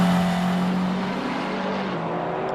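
A race car in a sim racing game climbs a hill toward the final chicane during an e-sports practice and qualifying session, its engine droning loud and steady throughout, with no talking.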